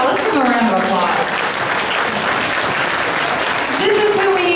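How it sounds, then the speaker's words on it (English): An audience claps in a steady round of applause at a church family and youth ministry gathering, loud and sustained, with voices and harmonic speech audible over the clapping throughout. "let's give them a round of applause"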